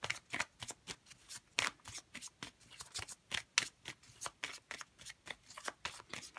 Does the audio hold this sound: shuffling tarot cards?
yes